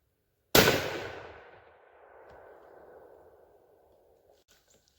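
One loud rifle shot fired with a factory load on a cold outdoor range, a sharp crack whose rumbling echo decays over about two seconds, followed by faint small sounds.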